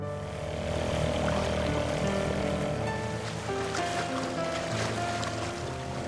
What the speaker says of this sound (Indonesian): tentara SS menyisir lokasi tersebut dengan perahu